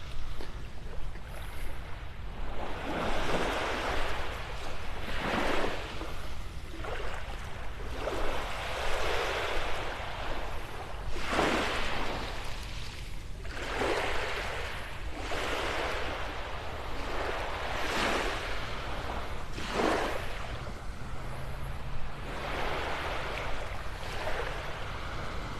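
Steady wash of waves breaking and lapping on Vanderbilt Beach, North Naples, Florida, with repeated surges rising and falling every couple of seconds, continuous and fairly close, no voices.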